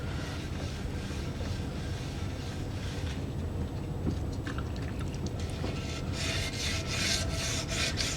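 Coarse 220 grit sandpaper rubs steadily against an aluminum motorcycle wheel rim during refinishing prep, a continuous raspy scraping that grows brighter and more forceful toward the end, with no talking.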